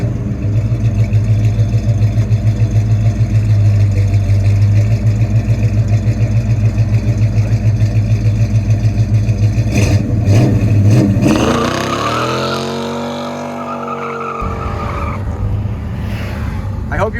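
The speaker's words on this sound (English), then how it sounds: "this GTO fires real strong out of the hole" A 1965 Pontiac GTO's engine rumbles steadily at idle, then roars loudly as it accelerates hard out of the hole, its note rising and sweeping upward before settling, heard close with no talk.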